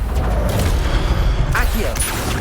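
Incendio fire spell cast in Hogwarts Legacy, a loud rumbling whoosh of flame with booming low-end bursts, running continuously through the moment alongside a voiced spell incantation and game effects.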